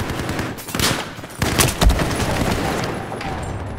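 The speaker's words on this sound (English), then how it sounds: "I have eyes on the hostile machine gun." Machine gun fire in Battlefield 4 comes as several rapid bursts of sharp, loud shots, with a heavier blast near the middle, against a busy game background.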